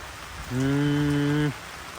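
Steady rain falls on a car parked outside a house, a soft continuous hiss, broken midway by a loud, sustained horn-like tone lasting about a second.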